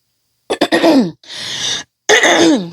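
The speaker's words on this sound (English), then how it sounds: "I have had a cough and it keeps wanting to disrupt my talking" A person coughs and clears their throat in a few harsh, close bursts with brief pauses between, no talking.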